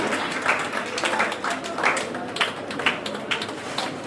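Audience at a Jain community introduction and honour ceremony in Delhi's Yamunapar area clapping, a steady patter of scattered hand claps from a moderately distant crowd with faint voices underneath.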